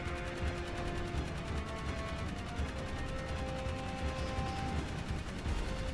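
Continuous automatic gunfire and blasts from Jak 3 Remastered, a steady dense barrage of rapid shots with no pauses, loud and sustained throughout.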